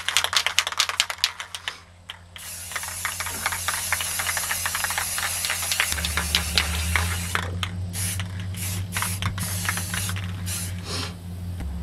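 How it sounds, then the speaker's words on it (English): Short bursts of an aerosol spray can apply matte clear coat to a rifle, first as rapid clicking taps, then a steady close hiss over a low hum, ending in sputtering puffs. "So I'm just gonna spray it completely with the clear coat"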